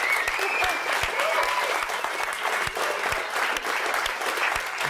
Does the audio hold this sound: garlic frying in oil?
no